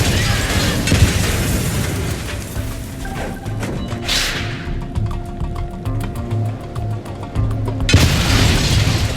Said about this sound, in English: when that same hostage is blown up by an IED right in front of you